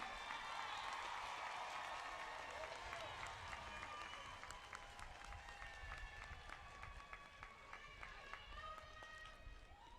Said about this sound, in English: give them one more round of applause for the magic that you see happening today